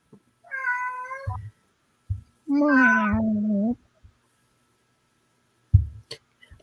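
A house cat meows twice, loud and close. A short meow is followed by a longer, drawn-out, wavering one, with a few soft knocks and thumps around them and a quiet gap before a final bump.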